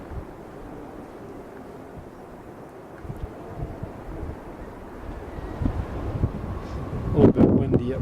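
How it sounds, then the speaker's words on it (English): Low wind rumbles and buffets the microphone high on Mount Rainier, growing gustier toward the end, where a voice briefly comes through. "A little bit windy up here."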